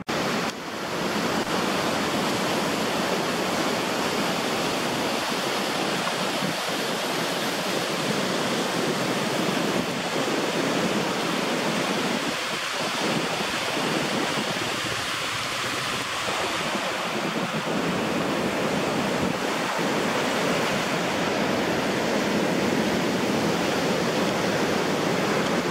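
Ocean waves wash steadily onto a beach in South Africa, a loud continuous roar of surf with no pause across the whole stretch and no voices.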